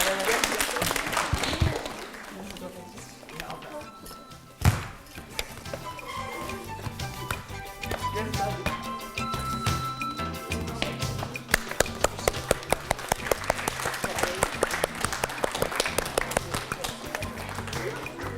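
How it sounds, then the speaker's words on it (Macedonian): A school holiday event audience claps at a stage performance, a dense wash of applause continuing throughout with sharper taps and claps, and voices mixed in beneath. "Да чуjem громогласен аплауз"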